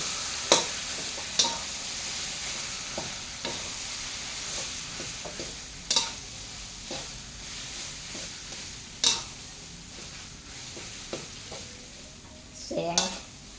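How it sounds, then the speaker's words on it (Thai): Jaew paste made with Thai herbs is stir-fried in a pan, giving a steady low sizzle. Sharp scrapes and clacks of the utensil against the pan come every few seconds, and a louder rattling stir closes the passage. "ผัดเลยค่ะผัดต่อให้หอม"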